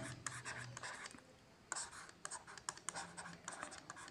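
A pen writes a sentence by hand in quick, faint scratchy strokes with short pauses, close by and quiet, with no talking over it.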